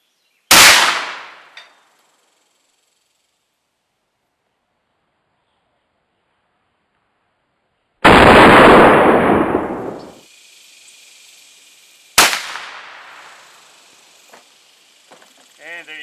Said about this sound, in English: And there you go. That is the black powder.